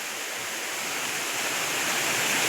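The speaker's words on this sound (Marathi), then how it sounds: "इकडं वर पाणी जात आहे फार त्या बांधाबरोबर" Water flows along the embankment of a dam on a river, a steady broad rushing roar that grows slightly louder, with no other sounds.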